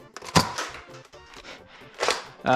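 A BuzzBee Arsenal toy blaster fires foam darts, giving a few sharp, close pops and thunks with spring and plastic clatter between them, and no voices.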